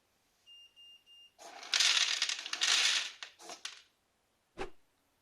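Homemade smart pet feeder dispensing dry kibble: a few short electronic beeps, then a burst of pellets rattling and pouring into a bowl, a few scattered clatters, and one last sharp knock.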